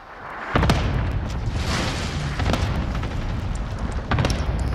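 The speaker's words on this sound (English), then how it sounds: "Cluster strike away." Cluster airstrike in Warzone: a string of heavy booms rolls in after a short quiet start, with sharper blasts near the middle and again toward the end over a continuous rumbling roar.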